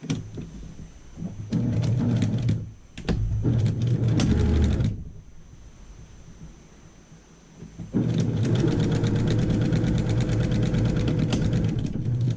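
Sewing machine stitching quilt border pieces together in bursts of rapid mechanical whirring, with a short stop and a longer pause before a steady final run; close and fairly loud, with no talk.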